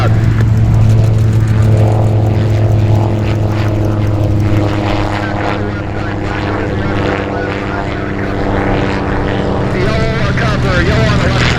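A small propeller airplane takes off at Oshkosh, its engine droning loud and steady at full power throughout, with a strong low hum and the wash of the airfield around it.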